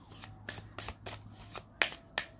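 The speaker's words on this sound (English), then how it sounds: "Oh yeah, that shuffles beautifully." A Divine Muses oracle card deck is shuffled by hand up close, a quick run of about seven crisp riffling bursts with sharper snaps near the end and no talking.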